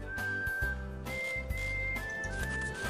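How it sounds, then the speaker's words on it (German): A character in the game Fenimore Fillmore 2 whistles a simple tune while walking away, several sustained notes rising and falling over a steady low game background. "Geh pfeifend weg, als ob du einen Spaziergang machen würdest."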